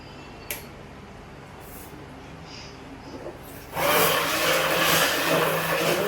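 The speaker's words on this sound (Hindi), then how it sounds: "ब्लेंडर से चला देती हूँ।" A few light clicks and taps, then a kitchen blender making a mango shake suddenly starts with a loud, steady whirring roar that continues to the end.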